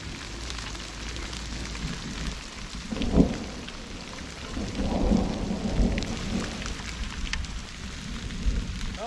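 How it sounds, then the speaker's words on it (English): Thunderstorm with steady rain in the Colorado mountains, a deep rolling thunder clap near three seconds and a longer rumble around five, over constant rain patter; no one speaks. "waiting for the storm to pass"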